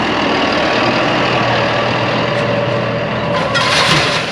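A tractor engine runs steadily at a low, idling rumble with a faint tonal hum, holding loud and constant throughout, with a brief brighter hiss rising near the end.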